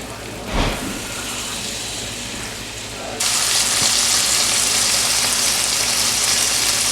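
Chicken frying in a pan of butter and olive oil, a steady sizzle that jumps to a louder, harsher crackle partway through, with a brief clank near the start.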